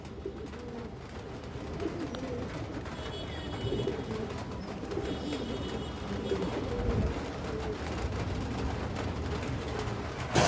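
Ring-eyed pigeons with red-grained eyes, offered among racing and high-flyer pigeons for sale, give a steady low cooing chorus at moderate distance over a continuous busy background.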